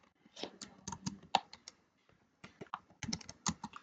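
Quiet, close typing on a computer keyboard: quick clusters of light key clicks separated by a brief pause, with no voices.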